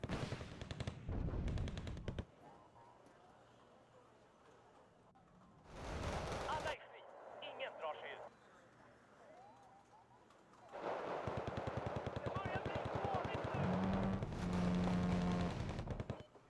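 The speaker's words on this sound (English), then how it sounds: "freaking gun on that thing is crazy. It's a bit too much even for a Thunderbolt" Rapid bursts from an A-10 Thunderbolt's cannon in a Wargame battle, loud roaring volleys at the start, middle and end with quieter battlefield rumble between, ending with a sustained heavy burst.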